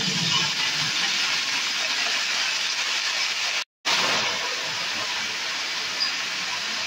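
Kalai greens and chopped green chillies drop into hot oil with nigella seeds, setting off a loud, steady broadband sizzle that cuts out for a moment and then resumes just as strong.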